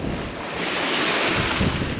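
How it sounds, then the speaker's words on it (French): Steady wind by the sea on the Sardinian coast, roaring against the microphone with a broad hiss and low rumble, continuous and fairly loud, with no voices. "Il y a un bon petit vent"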